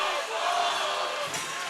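Ice hockey arena crowd at a Birmingham Bulls versus Peoria Rivermen game, a restless roar of many voices with shouts rising and falling over the short stretch.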